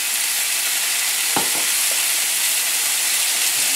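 Olive oil sizzles steadily in a hot pan while chicken is cooked, a loud, even hiss filling the whole stretch, with a couple of brief sharper pops near the middle.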